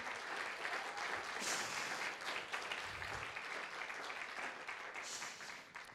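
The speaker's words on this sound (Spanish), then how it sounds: "un aplauso al Señor" A church congregation applauds together in a broad, even wash of clapping that holds steady at moderate level, with occasional brighter bursts and no clear speech.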